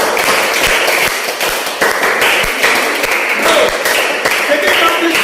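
Audience clapping at a cricket league finals award ceremony as players come up to the dais, steady close applause with sharp individual claps and occasional thumps throughout.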